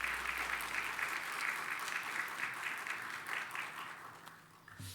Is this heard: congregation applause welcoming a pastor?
yes